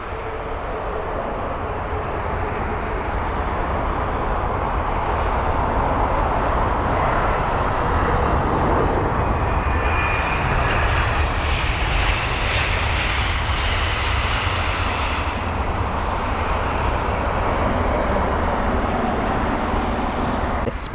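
A 15-year-old British Airways aircraft on flight BA547 from Rome, approaching London Heathrow, makes a loud, sustained jet engine roar that swells and holds throughout with faint background traffic and no speech.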